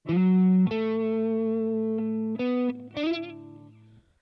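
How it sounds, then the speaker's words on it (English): Electric guitar through a Boss Katana MKII amp's modulated hall reverb plays a few sustained notes and a chord, each ringing out with a lush, gently wavering reverb that lingers and fades. "it adds the wavering sound found in a hall reverb to provide an extremely pleasant reverb sound"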